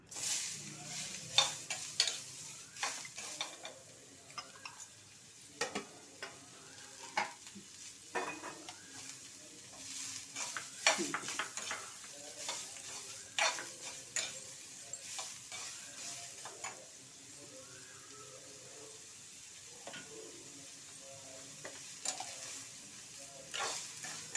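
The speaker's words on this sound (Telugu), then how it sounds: "ముందు మిరపకాయలు వేయించేసి తీసేస్తాను ఆ తర్వాత ఉల్లిపాయ ముక్కలు పడేస్తాను" Chopped onions fry in a pan after red chilies for onion chutney: a steady sizzle with scattered stirring scrapes and utensil clinks, close and fairly quiet throughout.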